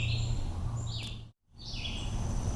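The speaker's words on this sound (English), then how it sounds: "Hear the birds singing?" Birds singing in the wooded lot beside a Maine lake in the morning, with bright repeated chirps and warbles over a steady low hum, broken by a brief silent gap midway.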